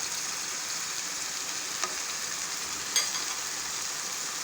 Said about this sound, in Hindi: 10 मिनट के लिए कीमे को ऑयल में फ्राई करेंगे।